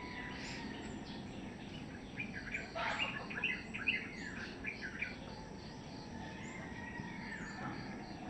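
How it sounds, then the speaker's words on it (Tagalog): Quiet rural morning with birds calling and chirping over a steady insect drone, calls scattered and moderately distant, a faint voice now and then. "ibon lang maririnig mo. Ibon, manok."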